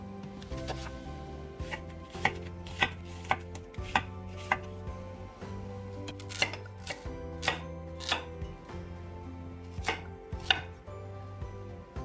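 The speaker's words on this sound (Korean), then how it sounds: "자, 이제 채소 썰어 줄게요" A knife chops vegetables, including potato, on a cutting board in sharp, irregular strikes, close and clear, over soft background music.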